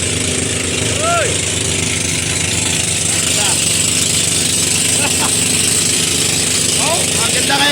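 An engine in good running condition drones steadily throughout at a constant pitch, with a few faint chirps and whistles rising above the hum.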